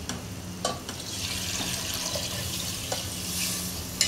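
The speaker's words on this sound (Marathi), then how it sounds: "आता आपण याच्यामध्ये पाणी ऍड करणार आहोत।" Water is added to fish frying in hot oil for biryani, producing a continuous hissing sizzle and bubbling with a few faint utensil knocks.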